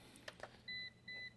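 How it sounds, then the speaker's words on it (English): A machine gives two short, high confirmation beeps after its programming button is pressed, evenly spaced and fairly faint, with a couple of soft clicks just before. "Hit the programming button. You'll hear 2 beeps to confirm."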